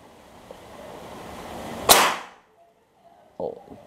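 A single sharp crack of a PCP air rifle shot during an accuracy test stands out against quiet background hiss, followed by silence and a short soft knock.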